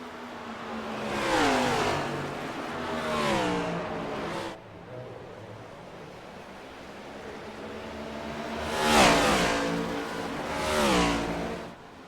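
Stock cars racing at Phoenix on Goodyear tyres roar past in loud surges, engine pitch rising and falling as they accelerate, with two distinct bursts of revving separated by a quieter stretch of distant engine drone.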